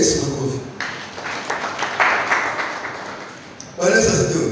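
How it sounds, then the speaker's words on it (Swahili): Church congregation clapping during a sermon, a burst of scattered hand claps in the middle, framed by a preacher's voice before and after. "Piga Yesu makofi."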